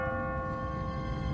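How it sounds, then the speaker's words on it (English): A church bell rings in The Walking Dead video game, a steady sustained metallic tone with layered overtones holding evenly throughout, moderately loud over a low rumbling background. "What kind of church bell goes off at 20 past the hour?"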